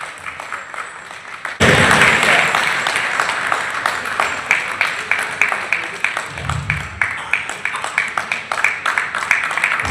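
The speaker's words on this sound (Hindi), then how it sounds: "ताली बजाते रहे, जिससे कि हमारे कार्यक्रम का आनंद और बढ़ता रहे" Audience applause fills a stage program at a Hindu religious gathering honoring a temple's priests: a sudden burst of dense, steady clapping begins after a quiet opening and carries on loudly to the end, with a voice faintly underneath.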